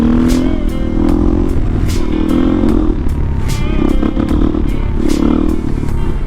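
A 2019 KTM 500 EXC motorcycle with an FMF 4.1 exhaust riding along, a steady loud engine drone with wind rush and periodic clattering ticks, close and continuous throughout.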